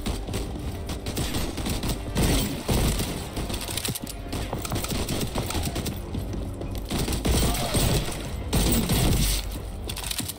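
Shotgun blasts and heavy gunfire in the video game Void Train, dense bursts of loud, rapid shots with clattering mechanical impacts over about ten seconds, close and continuous, no speech.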